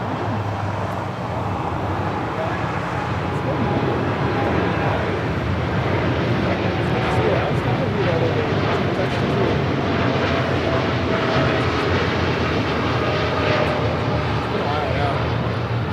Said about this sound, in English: That was United 1140 departing to Washington Dulles on a 787-9 Dreamliner